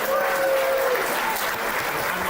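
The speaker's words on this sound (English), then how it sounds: "So one more round of applause for Murray High School" A crowd at a state high school esports championship applauds Murray High School, a loud, sustained wash of clapping with a faint tonal whistle or squeal briefly riding over it.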